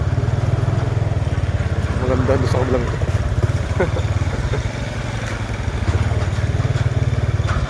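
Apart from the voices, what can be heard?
scooter engine running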